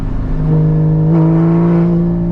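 A Porsche Cayman GT4 with a Fabspeed exhaust revs at half throttle, a loud, close, steady engine drone that climbs in pitch, dips briefly, then holds a higher sustained tone.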